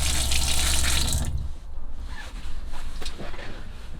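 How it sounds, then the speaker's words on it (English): Water runs from a motorhome sink tap fed by the onboard pump, a steady close hiss that cuts off after about a second and a half, leaving quieter drips and handling sounds. "just a case of switching the tap on, and your water will flow through to your sink"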